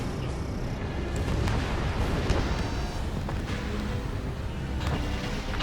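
Missile explosions in the flight combat game Ace Combat 7, a continuous loud roar of jet and blast noise with several sharp booms standing out, no talking.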